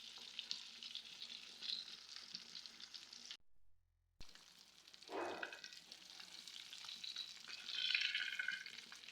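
Fish sizzling and frying in oil in a pan over a medium flame, a steady crackling hiss that cuts out for a moment, then resumes with stirring and a brighter spitting burst near the end.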